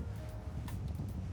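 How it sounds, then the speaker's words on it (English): Steady low rumble of wind buffeting the microphone outdoors, continuous and fairly loud, with faint rustling on top. "Bit windy."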